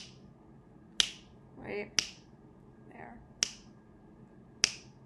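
Four sharp hand claps spaced about a second apart, setting off a homemade clap-activated circuit with an LED and microphone mounted behind a sign, with brief soft murmurs between claps.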